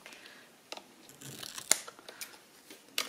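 Scissors trim bits off a paper clip pocket, giving several quiet, close snips and paper rustles at an irregular pace, with no talk.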